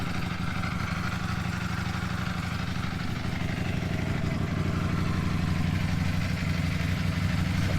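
A 2021 Ducati Panigale V4 with stock exhaust idles steadily at close range, a low, even rumble with a faint mechanical clatter throughout.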